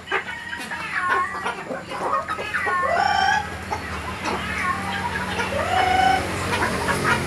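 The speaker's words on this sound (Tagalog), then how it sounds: "malalaking klaseng manok yan guys" Large chickens, about five kilos each, clucking and crowing at close range in a farmyard, with several overlapping calls and rising squawks throughout.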